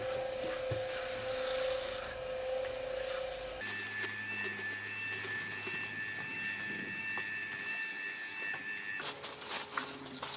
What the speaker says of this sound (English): So now it's all a matter of just using that finishing trowel.